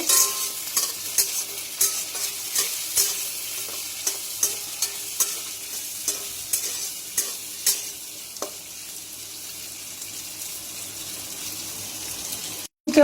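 Potatoes sizzle in hot oil with cumin seeds, a steady crackling fry punctuated by regular scraping clicks of a spatula stirring the pan. The stirring slows and stops toward the end, leaving a quieter, even sizzle.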